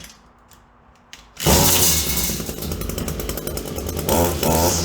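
An Echo chainsaw with a newly replaced carburetor, quiet at first, then bursting into a loud, close engine roar that keeps running and revs up again near the end.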